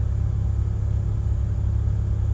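A car idles in a line of cars at a Taco Bell drive-through, a steady low engine rumble close by and unchanging, with no talk.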